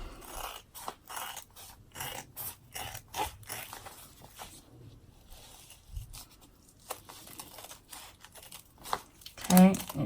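Scissors snip repeatedly through fabric of a makeup stash bag around its stitch lines, the close crisp cuts coming in an irregular rhythm with short pauses.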